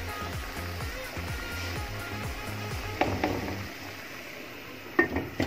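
Spoon stirring chickpea curry with garam masala in a pot, with soft scraping strokes over a faint simmer and a few sharp metallic knocks against the pot near the end.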